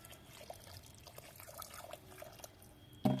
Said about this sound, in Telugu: ఇట్లా వాటర్ పోసేసుకోవాలి